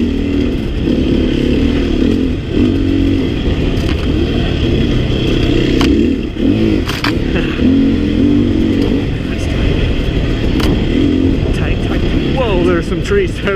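A 300cc dirt bike engine runs steadily and loudly while riding through tight trees, the rider feathering the clutch; the motor drones close throughout, with the rider talking over it.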